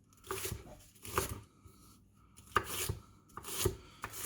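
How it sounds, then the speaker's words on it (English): A knife chops food on a cutting board in quick clusters of crisp strikes, four or five bursts with short pauses between, close and fairly quiet. "So we're just going to chop this up into bits."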